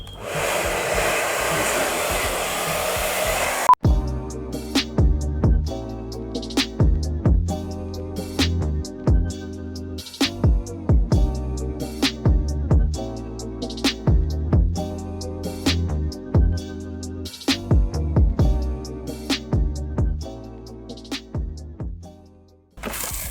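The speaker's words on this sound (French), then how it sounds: "Vous prenez un sèche-cheveux, vous le mettez à la température maximum, vitesse maximum et vous chauffez" A hair dryer at maximum heat and speed heats skateboard grip tape, blowing with a steady, loud whirring roar that runs almost continuously, with brief changes in pitch and airflow.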